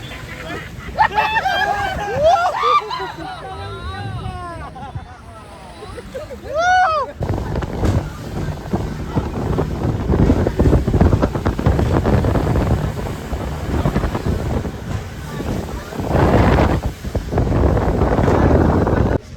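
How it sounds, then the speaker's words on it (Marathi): A boat pulls in at Coral Island off Pattaya, Thailand, heard as a steady engine and water rumble with heavy wind buffeting the microphone, under crowd chatter and someone talking over it. "चलो आपली बोट आलेली आहे मित्रांनो"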